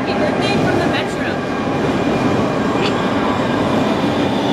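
Metro train in Barcelona rumbling loud and close, a continuous roar of wheels and carriage noise with faint squeals, filling the whole stretch.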